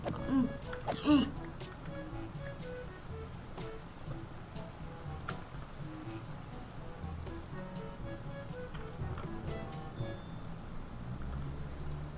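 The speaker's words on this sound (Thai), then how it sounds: "ทำไมต้องไปฝนตก" Steady rain patters and hisses continuously in Minecraft, with a few brief knocks near the start and no voices.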